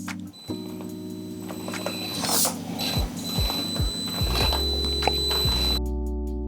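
An FMS FCX18 LC80 RC crawler whirs and ratchets as its geared drivetrain drives forward and reverses several times through a tight turn, a continuous close mechanical grind with pitch shifts at each direction change.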